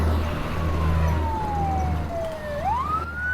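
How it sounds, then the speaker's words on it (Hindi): Fire brigade trucks pass with a loud wailing siren that sweeps down steadily in pitch, then rises again near the end, over a constant low engine rumble. "ये फायर ब्रिगेड की गाड़ियाँ इस तरफ क्यों जा रही हैं?"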